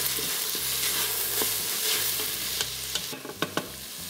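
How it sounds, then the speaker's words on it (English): Onions and chopped tomatoes fry and sizzle in an Instant Pot, a steady close hiss broken by a few scraping stirs and knocks of a spoon against the pot. "So I'm going to add 2 tomatoes chopped."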